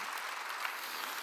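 A church congregation claps together during a sermon, a brief burst of dense, even applause at moderate level with no voices on top.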